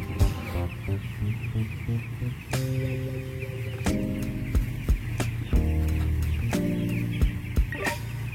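Broiler chickens in a closed poultry house cluck and call in scattered bursts over a continuous fan-like drone, with sharp knocks and clatters punctuating the flock noise.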